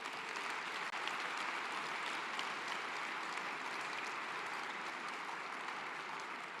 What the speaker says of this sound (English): One last round of applause before we walk out of here